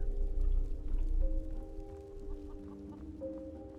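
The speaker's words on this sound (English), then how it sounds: "You have chickens" Chickens clucking in animal pens in a Skyrim house mod, soft low clucks and tonal calls over a muffled rumble, no talk.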